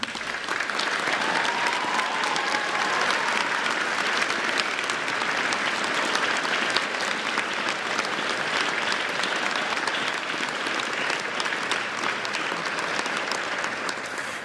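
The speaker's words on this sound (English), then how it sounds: "Can we ask nominees to stand so we can acknowledge your work with a huge round of applause?" A large awards-ceremony crowd applauds nominees continuously and evenly for the whole stretch, a dense wash of clapping with no pauses or voices standing out.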